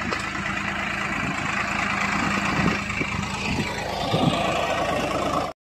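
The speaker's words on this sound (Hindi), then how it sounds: "देखो ट्रैक्टर आ रहा है" Tractor engine idling steadily in an open peanut field, a continuous low rumble at moderate distance with a rough, even tone and no talking.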